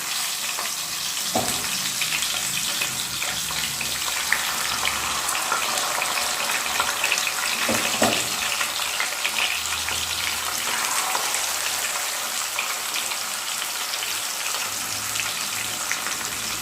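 Karimeen fish sizzling steadily in hot oil with curry leaves in a pan, a continuous close crackle and hiss with a few louder pops as pieces go in.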